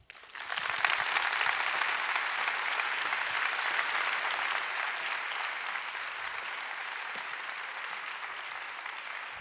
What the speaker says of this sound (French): Que d'applaudissements mérités